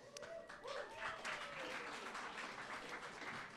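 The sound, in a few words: applause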